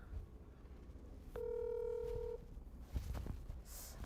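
A phone call is placed on speakerphone: a steady electronic tone holds for about a second, then faint clicks follow, all heard alone without talk.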